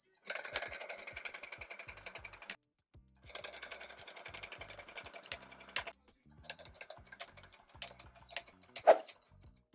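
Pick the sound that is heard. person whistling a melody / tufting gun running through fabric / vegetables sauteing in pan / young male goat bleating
tufting gun running through fabric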